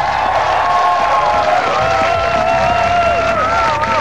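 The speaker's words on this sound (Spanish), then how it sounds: "ahora sí, un fuerte aplauso para recibir a Daría" Audience applause fills a television contest show as a new contestant is welcomed, a dense, steady wash of clapping and cheering with tonal voices or music running through it for the whole stretch.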